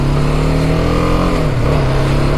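A BMW G310R 310cc single-cylinder motorcycle engine revs loud and close, its steady throbbing drone dipping briefly and climbing again, with no talk over it.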